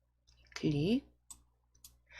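Computer mouse clicks while working in PowerPoint's animation tab: a few faint, short clicks scattered across a brief stretch, with a voice speaking close up over them.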